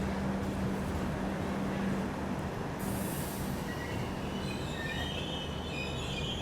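Poorvottar Sampark Kranti Express rolls out of Kanpur Central, a steady loud rumble of wheels and carriages with a faint squeal and a brief hiss of air partway through.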